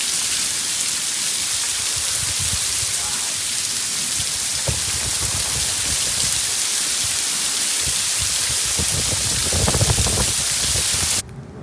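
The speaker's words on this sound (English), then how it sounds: "You see that rainstorm we had." Heavy rainstorm with hail threatening pours down and drums on surfaces, including a freshly washed 1984 Pontiac Fiero, as a dense, continuous hiss with scattered low thumps, loud and steady until a sudden cutoff near the end.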